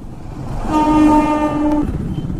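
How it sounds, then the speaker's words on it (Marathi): A train sounds a long, loud horn blast as it arrives at Khed railway station, the tone held over a rumbling rail-and-engine background. "हो ट्रेन आली आहे ती बघा."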